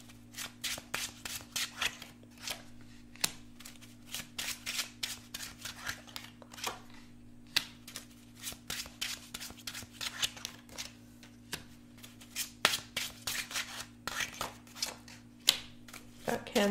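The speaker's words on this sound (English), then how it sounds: "So I'm going to lay out your cards here before I say anything." Tarot cards being laid out during a reading, with a rapid run of close, crisp card slaps and slides, dozens of short flicks in an uneven rhythm over a faint steady hum, and no talking.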